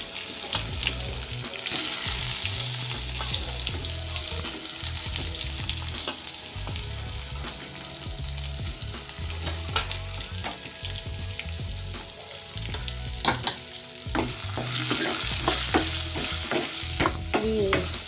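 Onion pieces fry in hot tempering oil with dried red chillies and curry leaves for gongura pulusu, giving a steady close sizzle broken by repeated spatula stirs and scrapes throughout, with no one speaking.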